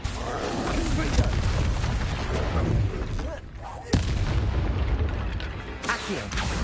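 A Confringo spell explosion in the Hogwarts Legacy video game, a loud fiery blast with a sharp burst near the four-second mark, set amid continuous dense combat rumble and booming effects.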